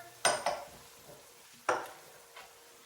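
A spoon scrapes and clinks through a pot of food seasoned with red pepper flakes, giving a few distinct stirring strokes over a soft simmer; close and fairly quiet, no voices.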